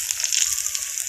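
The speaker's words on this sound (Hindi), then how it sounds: "और लहसुन का तड़का लगा दिए।" Garlic sizzling in hot oil, a steady bright crackle and hiss with faint stirring underneath, no voices.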